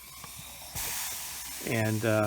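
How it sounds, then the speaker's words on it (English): A steamer hisses loudly in a broad spray while treating a red cough syrup stain on fabric, starting abruptly and running steadily, with a brief spoken word and a droning tone near the end. "using steam"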